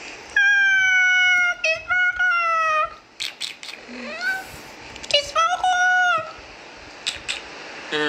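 A nearby cat gives a series of loud, drawn-out meows in several bursts, each sliding up or down in pitch, with short pauses and a few fainter calls toward the end.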